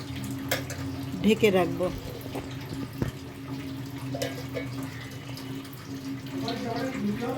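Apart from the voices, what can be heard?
water poured into a pot of mutton curry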